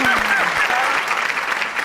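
A studio audience at a comedy talk show bursts into applause, a dense clapping wash with a voice speaking over the start before the clapping carries on alone.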